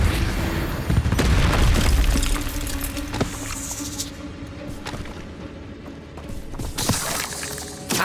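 Spell blasts in Hogwarts Legacy on Switch, a booming burst followed by crashing, shattering debris and a lingering rumble, loud at first then settling into quieter scattered impacts and another swell near the end.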